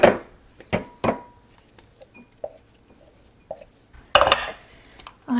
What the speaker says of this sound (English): I'm going to be using my favorite little spatula to take out the carrots from here